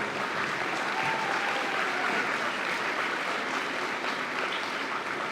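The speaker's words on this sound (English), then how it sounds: "One more round of applause for our UIL representatives." An audience applauds at a high school awards ceremony for student UIL representatives, a steady wash of clapping from many hands filling the room without pause.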